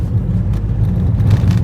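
Ford diesel engine of an EcoSport car under acceleration, a steady low rumbling drone that holds strong and close throughout with a slight rise toward the end, no talking.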